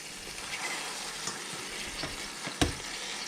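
Burger patties for a double bacon cheeseburger fry in a pan with a steady, close sizzle and faint crackle, with one brief sharper clatter near the end.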